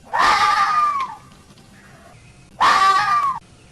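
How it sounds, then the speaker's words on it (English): A red fox gives its screaming call: two loud, harsh, wavering shrieks of about a second each, separated by a short quiet gap, close and alone. "They make a noise that sounds like a woman screaming or like someone's in distress"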